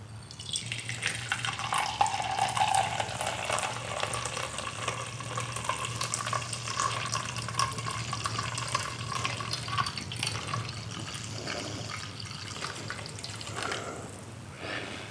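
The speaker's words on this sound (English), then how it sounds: "So we very carefully take our coffee not to disturb those grounds on the bottom. And we pour very slowly." French press coffee is poured slowly into a cup: a soft, steady liquid trickle runs continuously for about fifteen seconds over a low background hum, fairly quiet and close.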